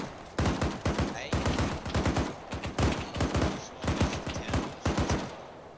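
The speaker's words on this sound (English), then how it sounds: "just shoot at nothing, Davis." Automatic gunfire during a military operation, delivered as a series of sharp, close bursts of rapid shots separated by short pauses and continuing throughout.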